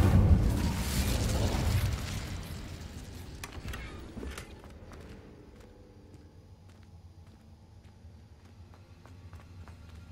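An Incendio fire spell is cast in the Hogwarts Legacy video game, a loud whooshing burst of flame that roars for about two seconds, then dies into quieter crackles and scattered clicks.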